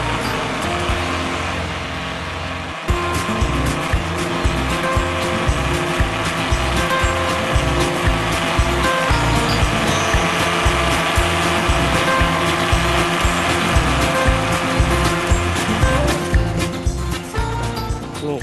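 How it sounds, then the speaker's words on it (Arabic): Electric blender mixing ground fenugreek with skim milk, a loud, steady motor whir that starts abruptly after a short pause and runs continuously to the end. "اهو بنضربها في الخلاط."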